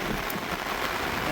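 Steady rain falls in the Konkan, a dense continuous hiss of drops hitting surfaces, close and even throughout with no clear pauses.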